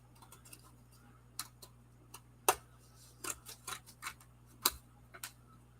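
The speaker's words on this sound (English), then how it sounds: "Detail scissors work much better with these more intricate outer patterns." Detail scissors snip through an intricate paper pattern for card making, giving crisp, irregular cuts that are sometimes single and sometimes in quick clusters, close and fairly quiet over a steady low hum.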